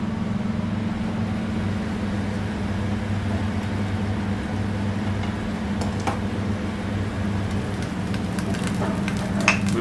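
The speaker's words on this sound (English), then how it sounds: "So we melt some butter." Butter melts in a pan as the first step of a chicken liver pasta. It makes a soft, steady sizzle over a low constant hum, with a few faint crackles toward the end.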